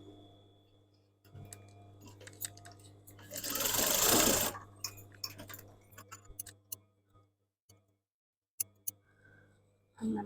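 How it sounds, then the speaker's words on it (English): An overlocker sewing machine stitching a fabric seam on a pair of tiered-fabric shorts runs in a loud, close whirring burst, then gives way to scattered ticks and short clicks as it stops and starts. "Get the overlocking on this one and do the same with that."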